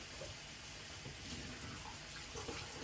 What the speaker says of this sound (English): just quickly wash my hands